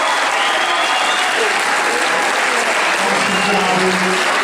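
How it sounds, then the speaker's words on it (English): A big round of applause at a high school fall sports awards banquet, dense and sustained crowd clapping for the seniors, with faint voices mixed beneath it. "I would like all of our fall sports seniors to please stand and get one final big round of applause"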